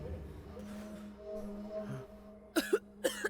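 Two or three short, harsh coughs burst out near the end, close and fairly loud, after a stretch of muffled game sounds and a low steady hum during a session of the martial arts game Sifu.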